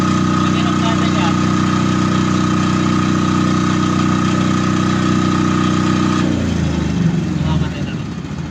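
A motor engine running at a steady idle with a constant hum, then its pitch drops and the sound winds down near the end.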